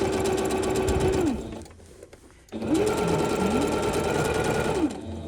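A sewing machine stitching the layers of a reversible tote bag runs loudly and close, pauses briefly, then whirs again with rising and falling motor pitch as it backstitches before stopping.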